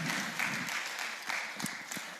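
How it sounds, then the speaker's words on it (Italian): A small audience claps for a teacher at a school maths event, brief faint applause lasting about two seconds with a few sharper individual claps near the end. "Un bel applauso per la prof Rossetti."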